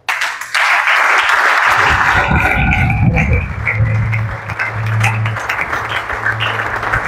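A church congregation at an evening service bursts into loud, sustained applause and clapping, close and dense, with voices and cheers mixed in and a low musical hum underneath.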